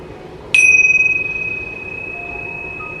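A single bright chime strikes and rings out with a long, clear sustained tone that slowly fades, with faint softer tones joining later.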